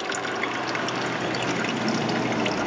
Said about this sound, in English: And just give it a bit of time for that oil to drip out.